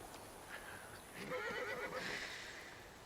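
A faint horse whinny rising and wavering for about a second, heard alone at a distance.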